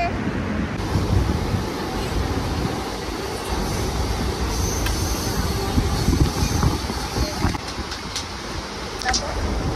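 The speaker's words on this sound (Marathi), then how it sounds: "आमची ट्रेन आले, बाय।" A train pulls into a station, its broad low rumble and rolling rail noise steady throughout, with faint squeals and clanks above and some background talk.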